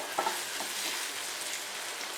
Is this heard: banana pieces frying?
yes